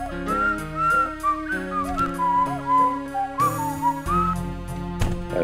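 Whistle in a Roblox-style video game, a loud, close series of shrill melodic toots and warbling notes over a game music backing, repeating in short rhythmic phrases with no talk over it.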